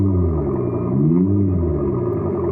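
Steady synthetic engine hum from a speaker near the rear wheels of an Abarth 500e electric car, rising and falling in pitch like a rev, droning loudly without pause.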